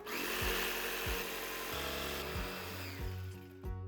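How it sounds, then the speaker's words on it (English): A jigsaw cuts through a wood closet panel along marked lines, a loud, steady buzzing rasp with the motor pitch dipping several times as the blade bites and eases. "put your jigsaw blade right into those drill holes and just cut along the marks that you make, just like this"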